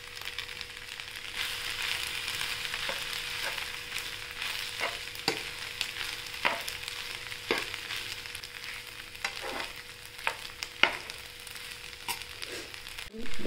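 Sabudana khichdi frying in a pan, a steady close sizzle throughout with intermittent scraping knocks of a spoon as it is stirred.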